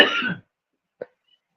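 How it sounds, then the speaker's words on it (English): A man coughs hard, one rough burst followed by two short sharp coughs after brief silences. "That's he coughing his ass off"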